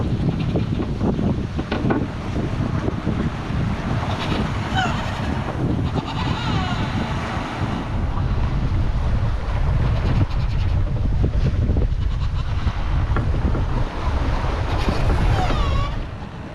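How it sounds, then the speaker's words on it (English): Strong wind and surging waves buffet a sailboat at sea off the Spanish Mediterranean coast, a continuous loud roar with heavy low rumble and washing surf, steady throughout with no voices. "big wind waves every now and again, knock us a bit sideways"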